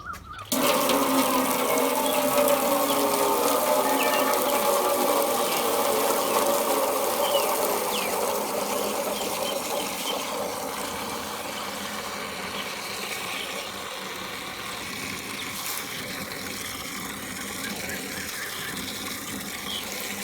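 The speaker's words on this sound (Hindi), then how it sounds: "तो पालक को खुले पानी से अच्छी तरह धो लेंगे पहले।" Tap water runs steadily over fresh spinach leaves as they are rinsed, a continuous near splashing gush that starts abruptly and softens slightly partway through.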